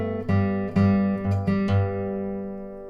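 Acoustic guitar picking a short phrase, four or five plucked notes ringing close and clean, then sustaining and fading alone.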